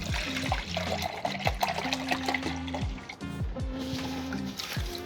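Tap water runs onto a paper towel to moisten it for a potato-sprouting garden project, a steady stream with gurgling, pipe-like tonal shifts and brief surges throughout.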